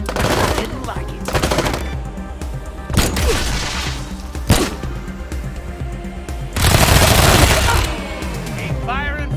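Sustained combat gunfire in the video game Wasteland 3, dense rapid bursts of automatic fire and heavy shots that keep going with only brief lulls, loud and close, with game voices faintly mixed in.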